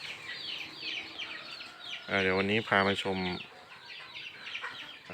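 Chickens cluck and chirp in a chicken coop in the background while someone talks, with a louder voiced burst in the middle.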